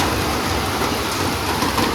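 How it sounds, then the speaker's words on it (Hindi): Heavy monsoon rain pours down at Matheran, a dense, constant roaring hiss with a low rumbling undertone, loud and steady with no voices. "बारिश देखो गाइस, बारिश आ चुकी है।"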